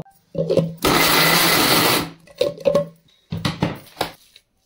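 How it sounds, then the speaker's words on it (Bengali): Chicken pieces being blended in a mixer grinder: a loud, steady whir running for about a second, with clattering jar and lid knocks and short motor bursts before and after, close by. "এবার আমি চিকেন গুলো মিক্সিতে ব্লেন্ড করে নেব।"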